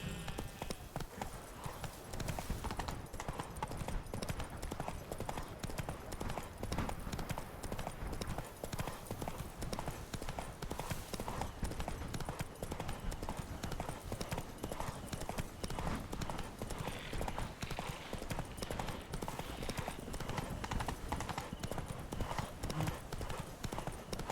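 Roach, Geralt's horse in The Witcher 3, trotting with a steady, rapid clip-clop of hooves across the whole stretch, a continuous dense rhythm under faint game ambience.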